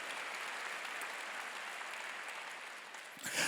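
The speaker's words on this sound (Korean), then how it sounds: "박수로 하나님께 영광 돌려." Congregation applauding in a church during a graduation worship service, a steady dense wash of clapping that holds evenly throughout and swells slightly louder right at the end.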